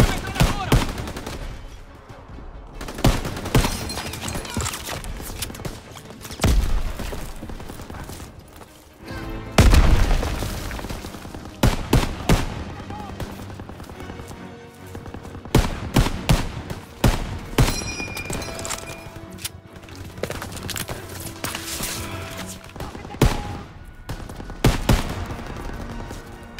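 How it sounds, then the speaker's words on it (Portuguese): Sustained machine gun fire and heavy explosions on a beach in the World War II video game Call of Duty WW2, with rapid bursts and loud booms repeating throughout amid battlefield chaos. "Estão bombardeando aquela praia! Metralhadora no paleiro!"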